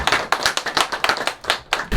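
An audience at a Christian patriotic prayer meeting claps to welcome a guest lecturer, a fast cluster of sharp hand claps in uneven bursts, loud and close with brief gaps.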